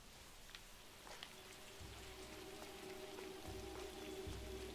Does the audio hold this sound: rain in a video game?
yes